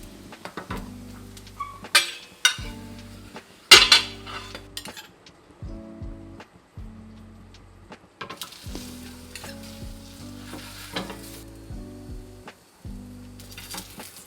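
Keema paratha sizzles in a pan as it fries until browned and crispy, a low hiss punctuated by sharp metal utensil clinks and scrapes, with background music running underneath.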